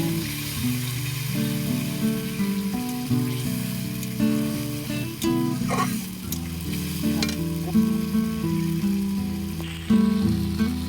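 Masala fries with a little water in a pan for a Bengali rita fish curry, a dense, loud steady sizzle with occasional spoon scrapes and stirring, heard close up without talk.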